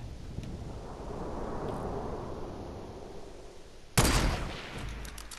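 A burst of gunfire in the video game Fortnite hits suddenly after a stretch of low rumbling ambience, a loud, sharp blast followed by a few quicker trailing shots.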